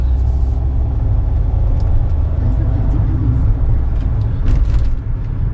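Kia Ray small car driving on a test drive, a steady low engine and road rumble heard from inside the cabin, loud and continuous with faint light rattles.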